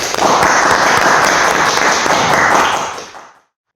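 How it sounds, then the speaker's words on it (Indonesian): Loud, dense applause from participants in a book-trade discussion, a steady burst of clapping that lasts about three seconds and then quickly dies away into silence. "Kita tepuk tangan dong untuk kita sendiri"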